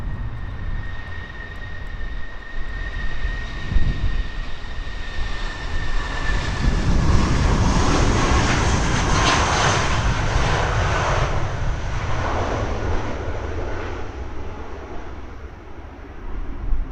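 A British Airways Airbus A380 taxis out from Terminal 5 at Heathrow, its jet engines building to a loud, close roar with a whining tone that swells and then gradually fades.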